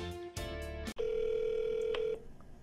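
A telephone call is placed: a short burst of dialing tones, then a steady sustained tone lasting about a second before cutting off, clear and close with no voices.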